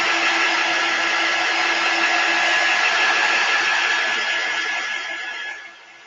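Hair dryer blowing steadily at close range to dry paint on a painted clipboard, a constant whirring rush of air that tapers off and stops near the end.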